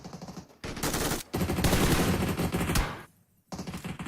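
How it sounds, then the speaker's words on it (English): Rapid bursts of gunfire in PUBG Mobile crackle in quick succession, with a brief pause before another volley; loud and dense, like automatic weapons firing. "Beautiful gunshots there being just fired everywhere."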